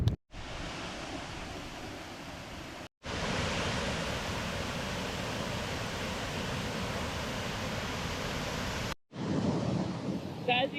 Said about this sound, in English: we're just at the waterfall now, Isabella Falls